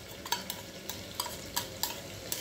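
Ginger garlic paste fries in a pan for a chicken pulao, a quiet sizzle punctuated by six or seven evenly spaced scraping stirs of a spoon.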